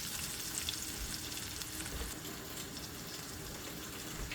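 Potatoes and onions sizzle steadily in a pan alongside breakfast sausage, a continuous close frying hiss with faint crackle and no talking.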